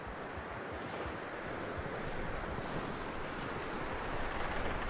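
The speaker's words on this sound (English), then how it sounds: "That looks like a decent horse." Horse hooves clip-clopping steadily in Red Dead Redemption 2, a continuous rhythmic patter mixed into wind and ambient outdoor noise.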